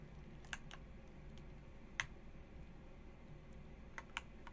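A handful of sharp, isolated clicks of keys or buttons at a computer during a session of the horror game Beautiful Nightmare, quiet and spaced a second or two apart with no talk.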